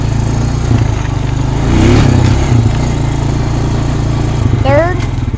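Honda Rancher ATV engine running loud and steady in second gear, a continuous low motor drone that swells briefly mid-way, with a voice speaking over it near the end.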